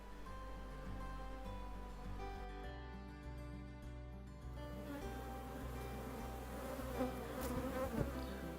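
Dense buzzing of honeybees around an open hive during a calm frame-by-frame inspection for the queen, a steady close drone that swells slightly toward the end with no voices.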